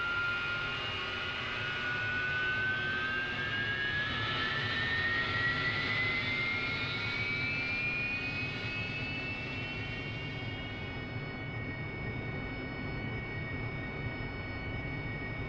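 Aircraft jet engine spooling up after the throttle is moved to idle, a steady loud roar with a rising whine that climbs in pitch for about ten seconds and then holds level.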